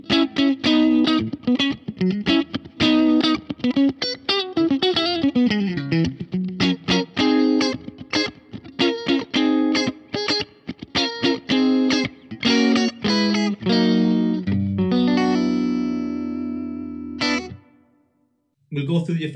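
Electric guitar through a Fender Mustang Micro headphone amp, played clean with reverb: steady strummed chords and picked notes ringing near and loud, ending in a sustained chord that cuts off abruptly before a brief final strum.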